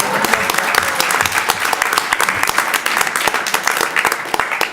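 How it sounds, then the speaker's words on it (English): An audience at a panel discussion on artist's books breaks into loud, sustained applause, dense clapping filling the room steadily from start to finish. "Definitely a big applause for Elena."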